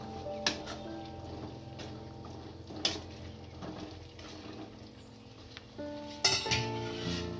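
A metal spoon stirs boiled chickpeas into a masala gravy for dahi chole, making scraping sounds and sharp clinks against the pot at irregular moments. The sounds are close and moderately quiet.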